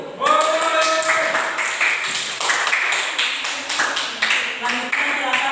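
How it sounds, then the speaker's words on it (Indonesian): A classroom group claps steadily for several seconds, dense hand applause for the first presentation group, with voices mixed faintly into the clapping. "Tepuk tangan untuk kelompok 1"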